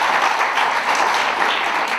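Broad, steady applause from a press-conference crowd honouring the town of Princeville, with dense clapping sustained throughout at moderate loudness and no clear talk.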